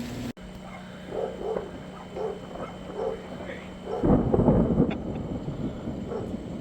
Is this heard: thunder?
yes